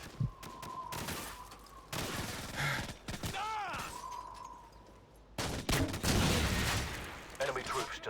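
Combat in the Call of Duty 4 campaign: bursts of gunfire and grenade blasts, alternating with quieter stretches, whistling tones and a radio-like voice between volleys, from loud close shots to more distant fire.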